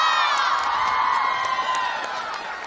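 A large crowd at a New Year's Eve outdoor concert in Taichung's Shuinan area cheers loudly, with sustained shrill whoops and screams ringing over a wash of voices and faint clapping that gradually eases.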